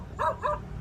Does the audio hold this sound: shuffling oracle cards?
no